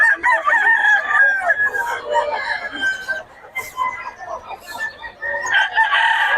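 A white Kelso rooster at a roadside fowl market near Bocaue crows loudly and close, with shorter clucks between the crows, and faint voices sit underneath.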